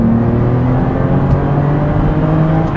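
A Porsche 996 accelerates along a country lane, its engine a loud, close, continuous drone with a slowly shifting pitch and no talk over it.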